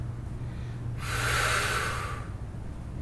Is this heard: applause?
no